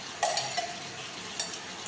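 Spiced masala for a potato curry frying in a pan, a soft continuous sizzle broken by a few sharp clinks of a spoon or utensil against the pot, close and unaccompanied by talk.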